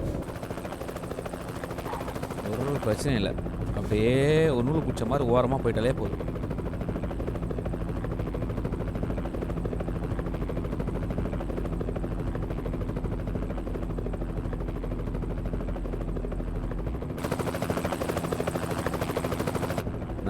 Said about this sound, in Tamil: இங்கே தான் ஹெலிகாப்டர் இருக்கா?